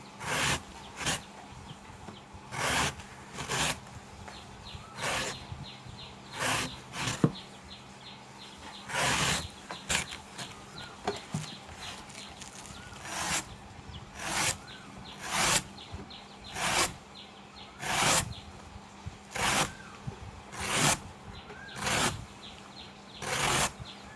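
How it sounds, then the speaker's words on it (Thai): Repeated knife cuts through a banana stem being sliced thin for duck feed, a long steady series of sharp, close slicing strokes in an even rhythm with brief gaps between. "นี่หั่นหยวกนะครับ หั่นหยวกให้เป็ดนะครับ"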